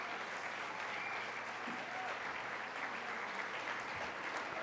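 A crowd at the Red and White Ball, a gala honoring military members and their families, gives sustained, dense applause that fills the hall at an even level throughout.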